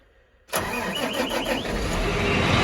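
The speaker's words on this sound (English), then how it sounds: "now that we got the tractor up and running" A farm tractor used for deep ripping celery ground cranks and fires after a brief quiet moment, then settles into a loud, steady idle close by.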